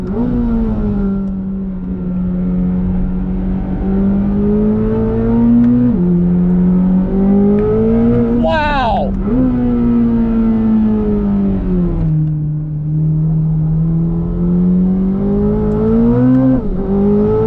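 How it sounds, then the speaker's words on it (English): A 2025 Corvette ZR1's V8 engine drones steadily under load, its pitch rising and falling with throttle changes and a quick gearshift blip midway, loud and continuous from inside the car. "you've got an epic V8 soundtrack"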